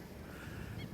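Geese or ducks honking together at the Bharatpur wetland in India, a steady mid-distance chorus of calls over low outdoor rumble with no talking.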